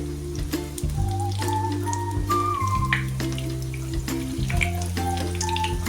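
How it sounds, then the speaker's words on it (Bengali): Chicken sausage bread rolls fry in oil over medium-high flame with a steady sizzle, broken by soft clanks and tonal scraping of a utensil against the pan. "এরকম ব্রাউন করে কিন্তু ভেজে নিতে হবে মিডিয়াম টু হাই ফ্লেমে কিন্তু ভেজে নিচ্ছি"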